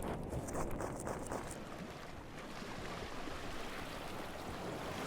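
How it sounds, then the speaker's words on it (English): Water ambience in the Among Us video game, a steady muffled wash of flowing water with attenuation, holding at an even level throughout with no voices. "There's attenuation on that water."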